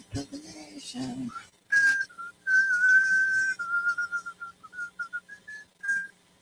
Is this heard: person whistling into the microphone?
yes